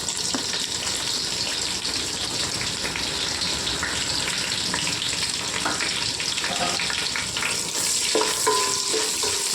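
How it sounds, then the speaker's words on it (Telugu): Sliced onions fry in hot oil for chicken dum biryani, a steady loud sizzle running throughout, with occasional clinks and scraping of a stirring spoon against the pan close by. "ఉల్లిపాయలు బాగా వేగాలండి."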